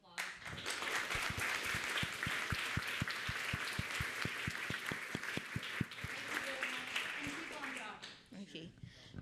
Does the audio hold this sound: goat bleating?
no